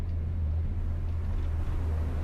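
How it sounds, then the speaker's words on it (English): A small Peugeot rally car's engine holds a steady, loud low drone on a circuit, heard from inside or close by with heavy rumble and wind noise, no talking. "Little Peugeot's revving away there."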